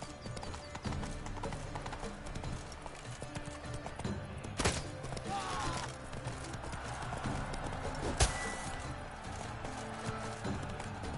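Hooves of Roach, a horse in a video game, clip-clop in a quick galloping rhythm, with a couple of sharp louder hits and a faint neigh.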